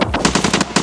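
Heavy machine gun fire in Escape from Tarkov on the Lighthouse map rattles out as a loud, close burst of rapid shots in a quick uneven rhythm.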